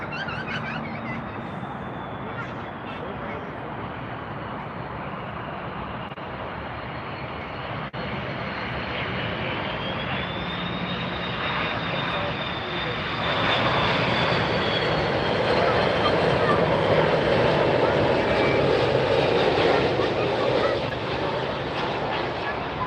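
An airliner painted in KLM-like livery arrives at Miami Airport, a continuous loud engine roar that swells and grows louder toward the end, with a rising whine and faint talk underneath.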